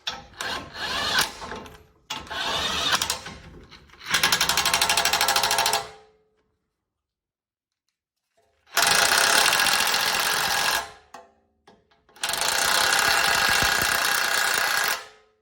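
A power tool tightens bolts on the front axle of a 2003-or-later Toyota 4Runner, with loud, close bursts of rapid hammering or buzzing separated by short silences.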